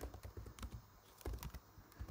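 Rapid typing on a computer keyboard in a lab, a quick run of close, crisp key clicks in uneven bursts, alone without talk.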